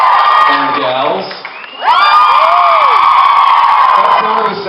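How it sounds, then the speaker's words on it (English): Convention panel audience of women screaming and cheering at a fan event, a loud sustained wall of shrill shrieks that dips briefly and then surges back even louder, with a voice speaking over part of it. "I was feeling the gals were screaming for the guys."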